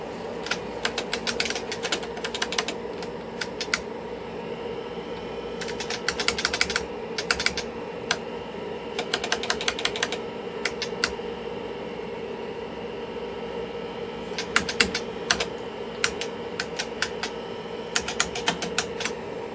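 Someone types on a computer keyboard with sticky keys, clattering in quick irregular bursts separated by short pauses over a steady machine hum, close-miked and with no voices.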